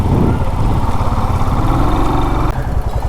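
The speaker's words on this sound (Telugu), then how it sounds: "అన్నీ సూపర్ బైక్స్ వచ్చినాయి." Several superbike engines idle nearby at Tamhini Ghat, Maharashtra, in a steady, rumbling low drone, with a brief shift in the engine note near the end.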